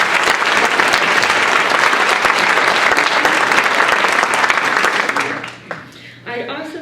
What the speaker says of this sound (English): So we could have a round of applause for everyone.